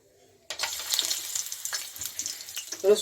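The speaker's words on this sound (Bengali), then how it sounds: "এটাকে আমি হালকা একটু ভেজে নেব" Dried red chilies and peanuts hit hot oil after a near-silent moment, bursting into a bright, close sizzle that crackles on and swells again at the end.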